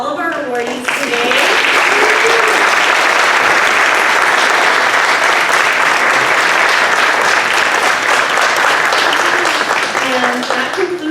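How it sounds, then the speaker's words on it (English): A summit audience gives a round of applause for the day's awardees, a loud, dense, continuous wash of clapping lasting about ten seconds, with a voice speaking briefly at the start and end. "Let's give one more round of applause for all of our awardees today."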